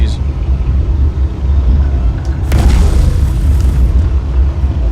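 A big cannon on a ship in the Star Citizen video game fires deep, heavy booms over a constant low rumble, with a sharp blast partway through.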